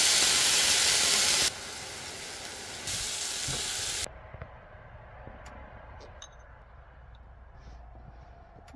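Chicken sizzles in a pan with agave syrup, honey, soy sauce and ginger, starting as a loud, bright hiss that drops in steps and settles into a quieter crackle with light scattered pops.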